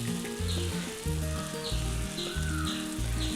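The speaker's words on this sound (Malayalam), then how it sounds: "ഇനി ഇതിലേക്ക് നമ്മൾ അരച്ചു വെച്ചിരിക്കുന്ന അരപ്പൊഴിക്കാം." Ground coconut paste for a Kerala dry prawn theeyal sizzles loudly as it hits the hot pan, a steady close frying hiss with low rhythmic stirring thumps underneath and no voices.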